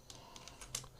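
A few quick, soft key taps sound on a computer keyboard, faint and close, spread irregularly over a second with no voice.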